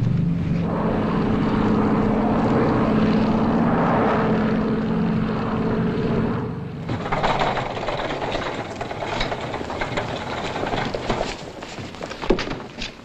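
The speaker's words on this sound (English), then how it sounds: "We're in the landing pattern now." Propeller airplane on its landing approach in a 1952 spy film scene, a steady droning engine hum that drops off midway and is followed by a busier, fluttering mechanical rumble, with no speech.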